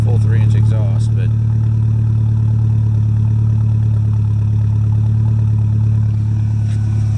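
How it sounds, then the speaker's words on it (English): Steady low engine rumble of a 1988 Merkur XR4Ti with a full 3-inch exhaust idling, a deep continuous drone with a few faint bursts of voice near the start. "I like the sound of this one actually."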